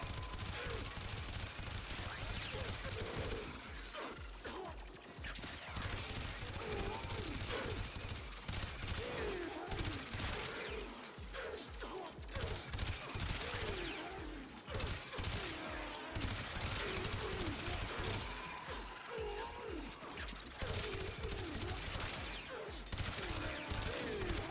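A laser rifle blasting in the Warframe video game, dense rapid-fire volleys pounding continuously with brief pauses, loud and sustained over game background sound.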